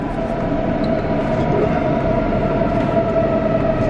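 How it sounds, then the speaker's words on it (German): Train departing a station, a loud, steady rumble of rail cars with a sustained hum and no distinct pauses. "Chris fährt jetzt mit der Bahn"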